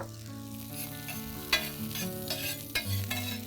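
Chopped onions, garlic and chillies fry in vegetable oil on a tawa with a loud, continuous sizzle, broken by a couple of sharp scraping stirs. Background music plays throughout and no one speaks.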